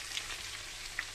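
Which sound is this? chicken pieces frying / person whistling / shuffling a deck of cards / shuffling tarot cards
chicken pieces frying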